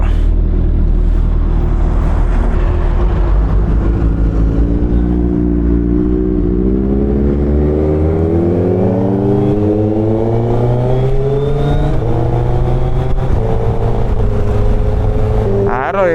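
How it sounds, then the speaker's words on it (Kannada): Kawasaki Z900 motorcycle exhaust on a ride, a loud steady drone rising in pitch as the engine revs up through a long pull, close and continuous. "ಎಕ್ಸಾಸ್ಟ್ ಸೌಂಡ್ ಕೇಳ್ತಾ ಇದ್ರೇ ನಿದ್ದೆ ಎಲ್ಲ ಓಡೋಗ್ತಾ ಇದೆ"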